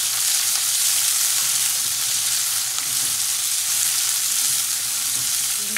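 Onions frying in a pan give a steady, close hiss of sizzling oil that continues evenly throughout with no voices.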